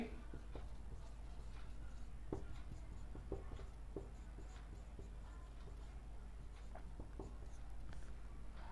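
Pen or chalk writing by hand during a maths lesson on arithmetic progressions: faint, soft scratching strokes in short irregular taps against a quiet, hissy room.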